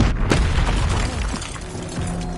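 A heavy booming blast from the Confringo explosive spell in Hogwarts Legacy, a sharp burst at the start followed by a rolling, fading rumble, loud and close with no talk over it.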